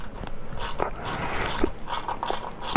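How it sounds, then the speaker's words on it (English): Hand tool working the exhaust heat shield fastener on a 2023 Honda Monkey, close soft ratcheting clicks in an uneven rhythm, with light metallic taps between them. "just unscrew this little heat shield"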